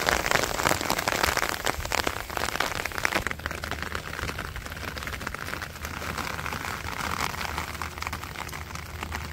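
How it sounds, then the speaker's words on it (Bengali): Rain pattering onto open water during the rainy season, a dense steady hiss of countless drops, loud and close at first and easing slightly after a few seconds, with no talk. "কত সুন্দর করে দেখেন জলে বৃষ্টি পড়তেছে খুবই সুন্দর দেখা যায় টিপ টিপ টিপ টিপ টিপ টিপ করে"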